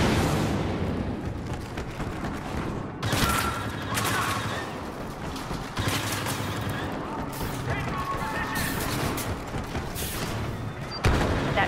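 Star Wars Battlefront gameplay with continuous blaster gunfire and explosions, dense and loud throughout and punctuated by sharper blasts, with voices shouting over the battle.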